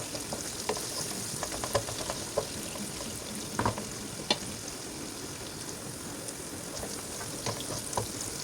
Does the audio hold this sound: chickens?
no